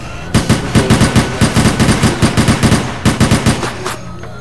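Rapid automatic gunfire aimed at zombies in the video game Operation Raccoon City, loud close bursts of evenly spaced shots with a brief pause in the middle before the firing resumes.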